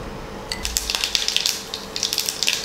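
Mustard seeds sputter and pop in hot coconut oil in a pan as a vegetable curry tempering is made, a rapid scatter of close, sharp crackles over a soft sizzle, with no talk.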